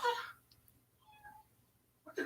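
A cat meows close by, with a short call at the start and another at the end, separated by quiet room noise.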